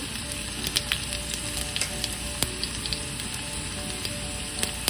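Mustard seeds and onion fry in a pan with a dense sizzle and scattered sharp pops and crackles from the seeds, close and steady over five seconds, without talk.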